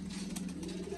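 Red-beaded Sialkoti breeder pigeons coo softly and steadily in a loft, faint and somewhat muffled under low background hum.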